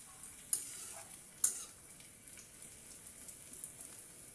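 Black cumin (nigella) seeds sizzle faintly in frying oil, a soft steady crackle with two brief sharp pops near the start.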